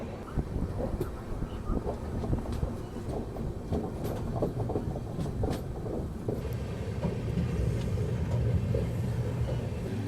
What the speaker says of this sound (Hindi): बाकी कुछ दूर तक अपनी ट्रेन इन्हीं जंगलों के बीच चलने वाली है और रफ्तार बिल्कुल ऐसी रहने वाली है